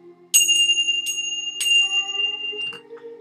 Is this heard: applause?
no